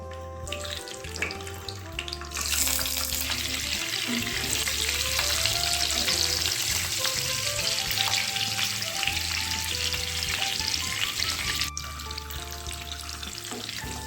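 Eggs frying one by one in hot white oil in a wok for egg kurma, a loud, steady close sizzle and crackle that flares up when the eggs go in and settles slightly toward the end.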